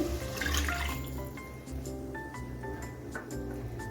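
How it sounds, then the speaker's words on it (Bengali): A bowl of water poured into a paneer tomato gravy gives a short splashy gush, followed by soft drips and light kitchen clatter. "এখানে আমি এক বাটি জল দিয়ে দিচ্ছি"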